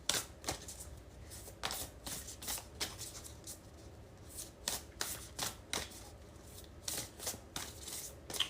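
Oracle cards being shuffled by hand for a reading, a run of quick riffling bursts and soft slaps repeating in an irregular rhythm, close and clear with no talk.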